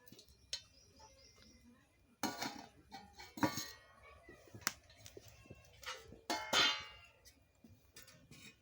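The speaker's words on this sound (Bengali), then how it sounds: "এই যে দেখুন, চাপাটা লাগিয়ে দিচ্ছি।" Metal clatters sharply as a lid is set onto a cooking pot on a home stove while silver carp fish curry is prepared. A few scattered clanks and scrapes sound close by against a quiet background.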